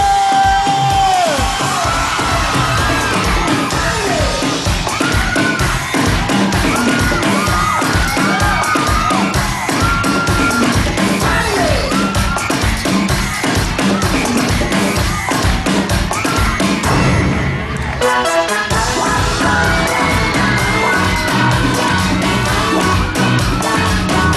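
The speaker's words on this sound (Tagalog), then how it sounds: "Ipatinin nyo ang malakas ng sigawan!" A studio audience at a Filipino TV dance show shouts, whoops and cheers loudly and without a break for the whole stretch, a dense wall of yelling voices with a steady pulsing beat running underneath.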